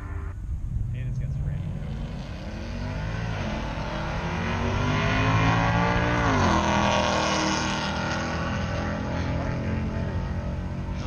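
Drag race car doing a burnout on track, engine roaring and rising in pitch as it revs hard, heard from nearby with a dense, steady rush, then easing off near the end.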